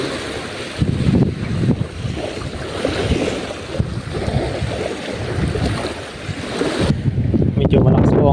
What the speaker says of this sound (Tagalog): Medyo malakas po ang hangin.